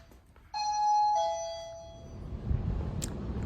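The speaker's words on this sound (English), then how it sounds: "And we got a new door chime up here now." A newly installed door chime at a print shop rings a bright two-tone ding-dong, clear and close, then decays into quiet room noise and a shuffle of movement.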